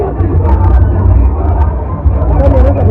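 A busy, crowded resort in a dense hubbub of many voices and a low rumbling background, loud and steady throughout, with people talking close by.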